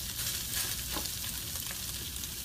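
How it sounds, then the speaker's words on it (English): Pork carnitas meat sizzling in a frying pan, a steady close crackling hiss of frying fat that continues throughout with no one talking. "we're gonna add some of our meat in here. To that sizzle."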